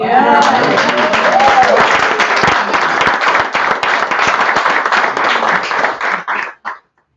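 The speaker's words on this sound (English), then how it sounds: "I think that's worth an applause." A gathering claps after a personal story shared at the podium, a loud, close burst of many hands that keeps up evenly, then thins and stops abruptly near the end.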